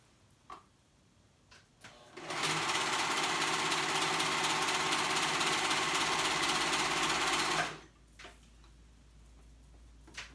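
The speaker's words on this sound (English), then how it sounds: "I'm just sewing that raw edge" A sewing machine runs steadily for about five seconds, stitching two raw edges of a child's pajama sleeve together, loud and close, with faint handling clicks before and after.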